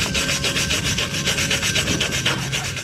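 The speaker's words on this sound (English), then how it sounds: "I might give them a brush up and just see if I can read the stamps on them" Steel gas cylinders brushed by hand, a steady rhythmic scraping rasp with regular back-and-forth strokes, close and loud, with no voices.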